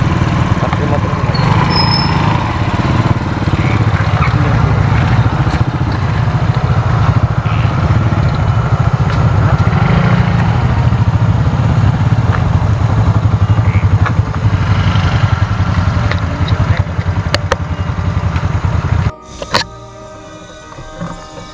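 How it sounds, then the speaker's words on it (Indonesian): A motorcycle engine runs steadily at close range for about nineteen seconds, a loud continuous drone with some rattle, before cutting off and leaving brief clatter and quiet. "Pakai motor ini."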